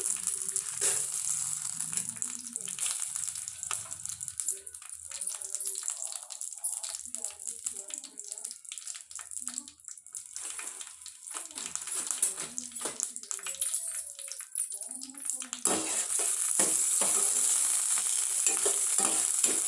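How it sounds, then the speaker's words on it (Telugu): Dried red chillies fry in hot oil for gongura pickle, giving a faint crackle and stirring sounds that swell into a steadier sizzle near the end, with some soft speech in the background. "హీట్ అయ్యాక ఈ ఎండుమిర్చిని వేసి"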